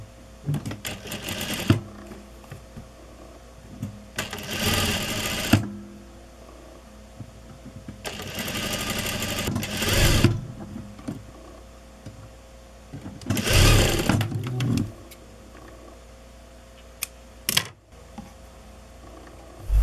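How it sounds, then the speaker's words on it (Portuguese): A sewing machine topstitches along the facing of a blouse in several short bursts of fast whirring stitching, separated by quiet pauses with small handling clicks, close and fairly loud. "Agora a gente faz um pesponto aqui no revel."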